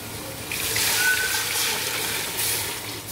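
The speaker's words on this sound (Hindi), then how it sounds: "अभी मैं इसमें पानी ऐड करूँगी।" Water poured into a cooking pot already holding salt, a steady close trickling and splashing stream running throughout without talk.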